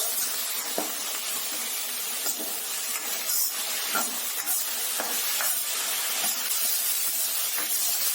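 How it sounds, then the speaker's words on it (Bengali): Street-style chili chicken fries with dark soy sauce in a pan over a high flame, a dense, steady sizzle and hiss throughout, broken by faint stirring scrapes. "এবার আমি 30 সেকেন্ড ধরে ভেজে নেব"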